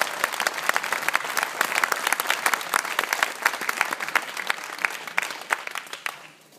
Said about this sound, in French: Vous pouvez les applaudir, hein, la dernière fois.